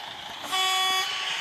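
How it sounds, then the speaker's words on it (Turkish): A single steady car horn honk lasting about half a second, loud and close, cutting over low road and cabin noise, with no talking. "Kornayamız var."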